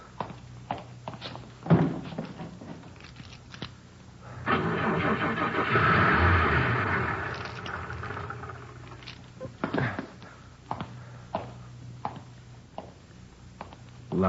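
A car engine cranks and whirs repeatedly but never catches, a long grinding turnover in the middle framed by clicks, thumps and shorter failed tries, heard alone at moderate distance.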